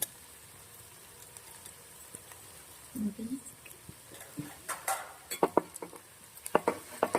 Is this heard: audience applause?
no